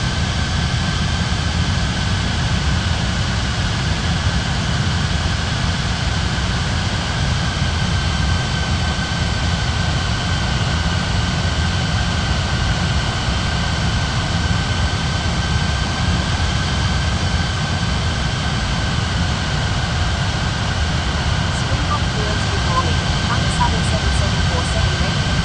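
Aircraft jet engines droning steadily from an air traffic control game, a loud constant whine and low roar with no clear change in distance, while a voice talks over it.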